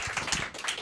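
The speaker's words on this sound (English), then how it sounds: "Clap it up for him." Short burst of audience clapping for a comedian at a live comedy show, a few scattered claps rising and falling in under a second, fairly close and moderately loud.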